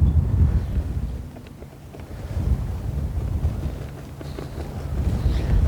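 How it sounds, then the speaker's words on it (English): Strong wind buffets the microphone on a golf practice tee, a steady low roar that swells and eases in gusts throughout, with no other clear sounds. "The wind is just pushing me here."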